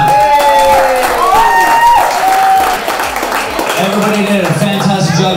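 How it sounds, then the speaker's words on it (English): Boot camp participants at a fitness challenge party applaud together, a dense, loud wash of clapping with cheers, while a voice speaks and whoops over it throughout. "I just want you to give yourself a round of applause right now."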